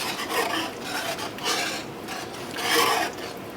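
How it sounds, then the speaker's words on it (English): A whisk scrapes and rasps steadily through Salisbury steak gravy in a pan over medium heat, a close, continuous scratchy stirring that swells in a few louder strokes. "And then I'm going to stir with a whisk."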